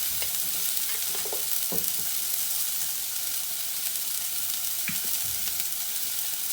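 Black pepper powder fries in a pan for a chicken soup, giving a soft, continuous sizzle with a few short scraping stirs near the start and again near the end.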